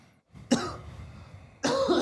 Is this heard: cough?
yes